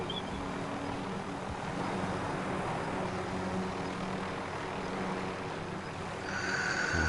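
A helicopter cruising in Call of Duty Warzone on PS4, a steady low engine and rotor drone with a broad rumbling wash that holds at an even level throughout.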